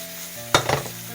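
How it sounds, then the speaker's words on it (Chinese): Eggs with chopped chili, minced garlic and fermented black beans stir-fry over high heat in a wok, a loud steady sizzle with a brief spatula scrape and toss in the middle. "大火把鸡蛋翻炒一下。"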